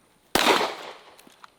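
A single sharp pistol gunshot after a slow draw, loud and close, with a short echoing decay and a few faint clicks afterward.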